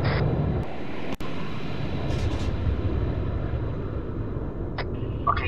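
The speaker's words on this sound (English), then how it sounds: "Yeah, that's our plane." Steady drone of a propeller aircraft engine in Arma 3, continuous and fairly loud, with a sharp click and a few faint background noises.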